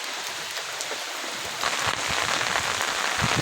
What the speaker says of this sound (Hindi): बहुत ज़्यादा बारिश हो रही है और हवा भी चल रही है, ठंडा लग रहा है।